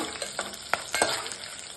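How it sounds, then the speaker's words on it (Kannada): Tempering for avalakki sizzles in an open pan, a crackly fry with several sharp pops and spatters over about two seconds, close and without talk. "ನಾವು ಯಾವುದೇ ಒಗ್ಗರಣೆ ಹಾಕಿದ್ರು ಮುಚ್ಚಿ ಹಾಕಿದರೆ ಚೆನ್ನಾಗಿ"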